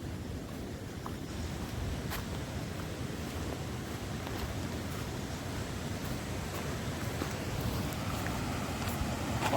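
A river flows in a steady, faint broadband rush, a continuous even wash of water noise with no talking.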